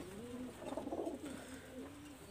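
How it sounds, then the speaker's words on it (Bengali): A female Kamakar pigeon coos in low, rolling phrases, faint and close, with two or three swelling calls and a quieter trailing coo, alone without talk. "এটা ফিমেল কবুতর"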